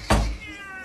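A single loud, close cat meow rises sharply and trails off, followed by quieter room noise, with no talking over it.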